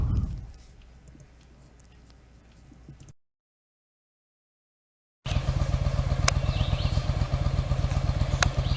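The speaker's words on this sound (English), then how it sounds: "Here is my start of my tour on the motorcycle." A motorcycle rides along a trail, its engine a steady rumble, then a gap of silence before a louder, rattling run with clicks and clatter.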